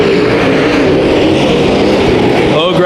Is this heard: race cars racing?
yes